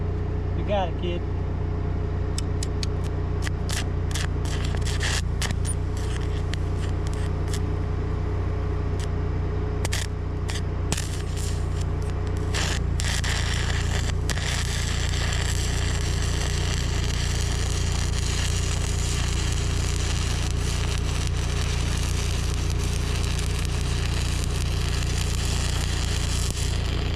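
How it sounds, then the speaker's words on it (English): An engine-driven welding generator drones steadily and pulls down under load as welding begins, alongside a constant low hum, sharp crackling bursts early on, and people talking over it. "You can hear it when it finally starts welding. Yeah. You can hear the generator. Generator pull down."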